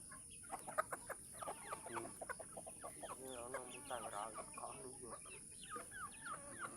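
Taiwan chickens raised alongside ducks on a small farm, clucking and crowing close by in a busy, overlapping chorus over a steady high background hum.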